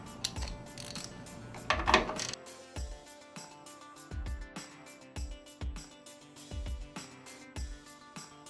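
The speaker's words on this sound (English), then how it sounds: "there's the 2 bolts in the back we're going to use our 1/2-inch socket to remove" A 1/2-inch socket ratchet loosens bolts on a 1998-2013 Harley-Davidson Road Glide motorcycle, giving close, repeated metallic clicks and clanks in irregular bursts, with a brief rattle of parts near the start.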